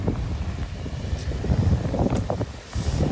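Strong Typhoon No. 15 wind batters a cyclist riding through the storm, a loud, continuous roaring rumble of gusts buffeting the microphone with no talking.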